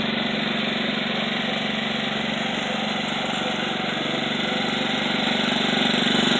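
A lawn mower engine runs at a steady, even idle throughout, a continuous mid-pitched drone heard close up with no talking.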